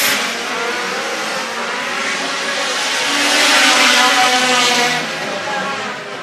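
A pack of race cars roars away at the green flag at Screven Motor Speedway in Sylvania, Georgia, a loud sustained engine wash that swells at its peak before easing slightly.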